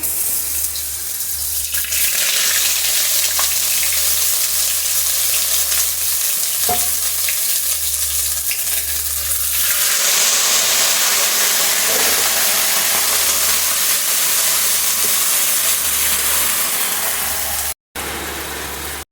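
Ginger, cumin, coriander, green chilli and sugar hit hot oil, giving a loud, continuous close sizzle with occasional stirring scrapes and a low rhythmic hum underneath.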